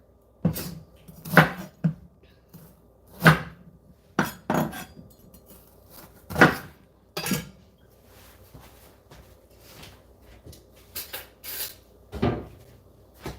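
Bitter melon (ampalaya) being sliced with a knife on a cutting board for Ilocano pinakbet, sharp irregular chops and taps, close and distinct, with quiet gaps between them.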